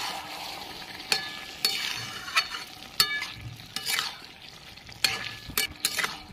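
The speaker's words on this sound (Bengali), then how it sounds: "ভালো করে নেড়ে নিচ্ছি।" A spatula stirs bottle gourd greens frying in mustard oil in a pan, with a steady soft sizzle broken by repeated scraping and clacking strokes at irregular intervals, close and fairly quiet.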